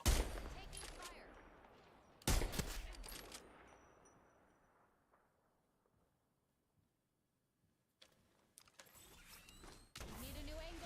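Bursts of automatic gunfire in an Apex Legends match, two loud volleys early with echoing tails, a quiet stretch, then more rapid shots returning near the end.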